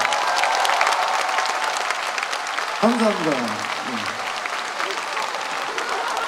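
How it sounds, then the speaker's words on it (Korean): Crowd at an outdoor orchestra concert at a festival applauding the drummer, loud sustained clapping with cheering. A voice briefly speaks over the applause partway through. "김하영 선생님한테 큰 박수 부탁드리겠습니다"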